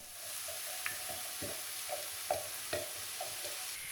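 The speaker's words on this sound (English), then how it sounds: "Then add the onion and the garlic. We're going to fry these until they're very caramelized and full of flavour." Onion and garlic frying in butter and sunflower oil, a steady broad sizzle with scattered stirring clicks and scrapes at irregular intervals, fairly close and moderate in level, with no voices.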